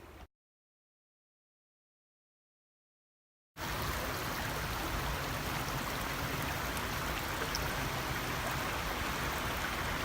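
Rushing water at a stream crossing on the north part of Section 9 of the Alabama Pinhoti Trail, a steady broadband wash that breaks in loud and close after several seconds of silence, with no talk.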